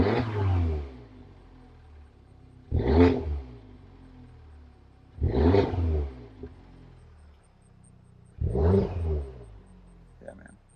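A BMW or Volkswagen car engine, freshly restarted after sitting, is revved four times in even bursts with a rumbling idle between them, close and loud, and no talk over it.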